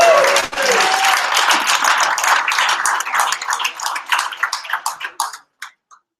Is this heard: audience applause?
yes